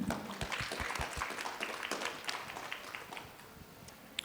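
A crowd claps steadily, a dense wash of many hands applauding at moderate distance, fairly faint and continuous throughout.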